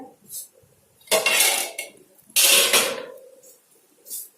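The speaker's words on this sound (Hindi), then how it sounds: "और इसको ऊपर से ढक देंगे" A metal lid is handled and set over a cooking pot of dal with pumpkin, two loud clattering, ringing bursts of metal on metal with smaller clinks before and after.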